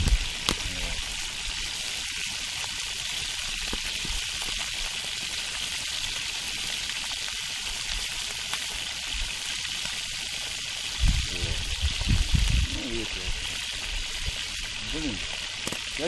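Fish fries in a pan with a steady, even sizzle that holds throughout, under intermittent low talk and a few clunks from the cooking.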